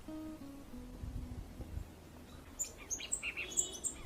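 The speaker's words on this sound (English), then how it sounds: "It is always a pleasure seeing the white-bellied dove, as it is usually heard more than it is seen." A white-bellied dove gives a few low, hollow coos near the start, faint and fairly distant, while higher chirps from other birds come in during the second half.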